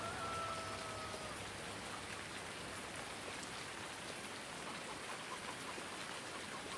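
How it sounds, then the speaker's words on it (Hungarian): Rain in the farming video game Farming Simulator 19 is a dense, even hiss of falling drops that stays steady and moderately loud for the whole stretch, with no voices over it. "álljon meg az eső mindenképp"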